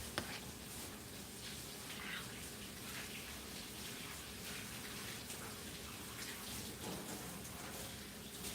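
Running tap water pours steadily for a rinse, a continuous close splashing rush with slight shifts as hands move through the stream, with no clear talk.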